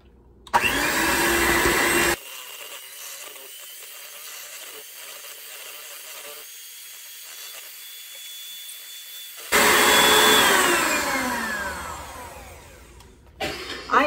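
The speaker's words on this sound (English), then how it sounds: "Mix it with the electric mixer." An electric hand mixer whirs loudly as it beats cake-style batter for chicken divan, starting with a strong burst, dropping to a softer hum through the bowl, then surging again before fading and cutting off.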